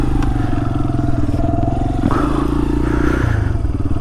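A street-legal dirt bike with a freshly rebuilt top end rides hard, its engine note loud and close, rising and shifting with rattling and scraping clatter throughout.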